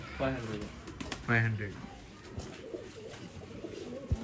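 An old line pigeon gives a couple of deep, rolling coos close by, followed by softer fluttering and background sounds, with people talking nearby.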